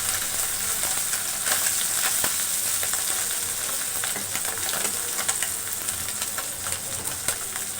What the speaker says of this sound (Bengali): রসুন বাটতে বাটতে এদিকে আমার মাছগুলো ভাজা হয়ে গেছে